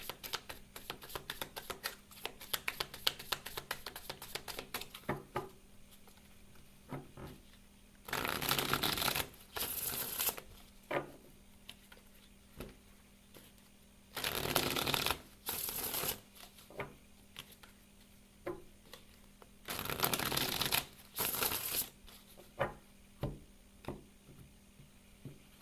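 A deck of tarot cards is shuffled and split close up, with soft flicking taps followed by three loud riffling bursts spaced several seconds apart and quiet handling in between.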